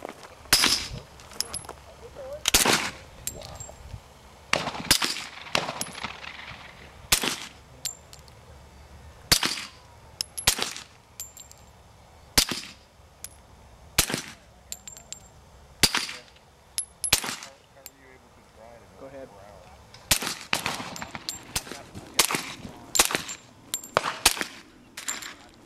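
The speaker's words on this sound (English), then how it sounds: "we're going to shoot the 230 grain FMJ 45 out of the SilencerCo Osprey" Suppressed .45 caliber 230 grain FMJ rounds fired through a SilencerCo Osprey at an outdoor range, roughly fifteen sharp muffled reports spaced a second or two apart, some in quick pairs, with faint voices between shots.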